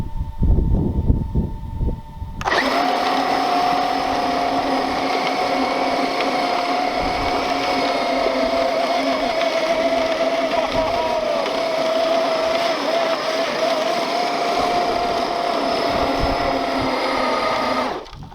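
A Traxxas X-Maxx 8S and a UDR RC truck strain against each other in a tug of war on dirt, giving a loud, steady electric motor whine that holds for about fifteen seconds after brief voices and rustling, then cuts off abruptly.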